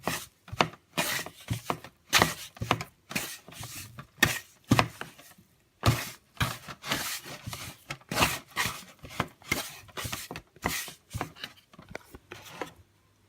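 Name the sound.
kneading bread roll dough by hand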